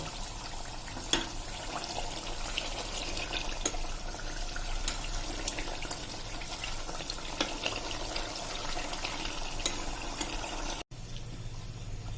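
Cream cooking down into ghee in a pressure cooker sizzles and crackles steadily at low level while being stirred, a continuous bubbling hiss throughout with no voice.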